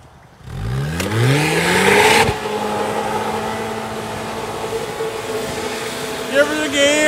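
A new Ford truck engine revs hard while mudding, the pitch climbing steeply at first and then holding a loud, steady drone with a grinding edge, close and continuous to the end.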